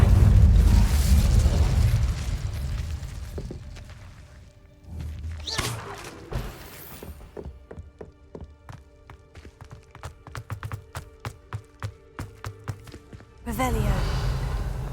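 A fire spell, Incendio, is cast in Hogwarts Legacy, giving a whooshing, booming flare of flame, then a second burst later on, set among rumbling game ambience and a voice.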